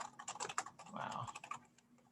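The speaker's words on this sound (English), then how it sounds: "I'm typing these up." Quick tapping on a computer keyboard, a rapid run of light clicks close by that eases off toward the end, with a brief murmur of voice under it.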